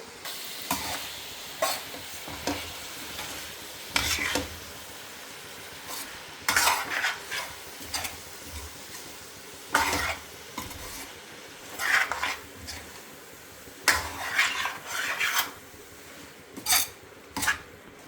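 Onion stalks, coriander stalks and curry leaves stirred in a pan for a prawn and egg curry, with repeated scraping and clinking of a spoon against the metal at an irregular rhythm over a faint sizzle.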